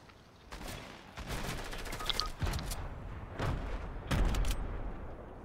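Bursts of rapid gunfire crackle in uneven volleys, sharp and close, with short gaps between them and a constant noisy background.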